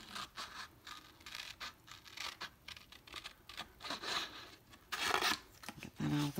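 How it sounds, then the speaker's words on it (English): Scissors trimming a paper teacup-shaped pocket tag, giving a steady run of close, crisp snips and scratchy paper cuts with small pauses, no voices. "So I'm just going to go ahead and try to trim this one quickly."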